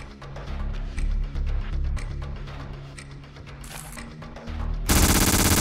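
Bursts of UMP submachine gun fire in the horror shooter Zero Spring, several rapid automatic volleys with short pauses between them, then a louder, denser burst at the end.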